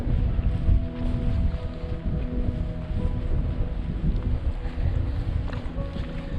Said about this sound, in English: A wee bit of a windy gap here, isn't there?